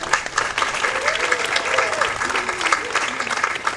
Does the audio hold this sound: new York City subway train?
no